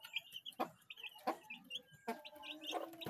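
Rhode Island chickens cluck and chirp softly in short scattered calls, faint and somewhat distant, with small knocks and rustles between them and no talking.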